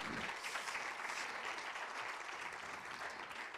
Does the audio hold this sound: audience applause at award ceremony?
yes